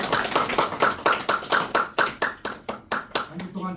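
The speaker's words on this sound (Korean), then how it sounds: "큰 박수 부탁드립니다" Audience at a Korean lecture event clapping in a clear steady rhythm to welcome the next speaker, sharp repeated claps close and loud, slowing and thinning near the end as a voice starts.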